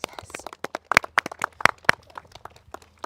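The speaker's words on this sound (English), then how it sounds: "So shall we give you guys an applause?" Elementary school students applaud, a short burst of scattered claps, some sharp and close, others faint, loosely spaced rather than a dense ovation, with voices murmuring around them.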